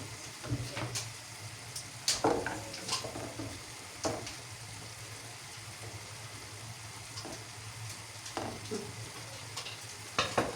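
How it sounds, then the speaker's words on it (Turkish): Meat roasting in a pan, a soft, continuous sizzle broken by scattered louder stirring scrapes and clatters, fairly faint and close with no talking. "Etimiz de burada kavruluyor."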